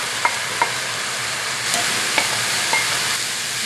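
Spinach hitting extra virgin olive oil in a hot pan sets off a steady, close hissing sizzle, punctuated by a few soft clicks from stirring.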